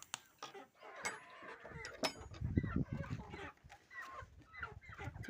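Quiet, close-up chickens cluck and murmur in short, irregular bursts, with soft rustling and scratching around them.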